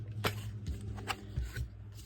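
Tarot cards being shuffled by hand in a few quick riffling bursts, close and fairly quiet against a low steady hum, with no talking.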